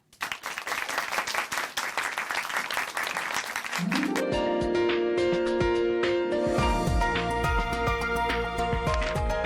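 Church audience applause welcoming a woman to give her testimony at a Chuncheon church programme, dense clapping for about four seconds before music swells in and carries on.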